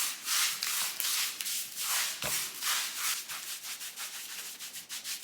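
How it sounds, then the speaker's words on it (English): A brush or roller rubs PVA across a hardwall-plastered wall in quick repeated strokes, a close, rhythmic swishing scrape with one sharper knock midway, and no talking. "So I'm going to PVA the whole area."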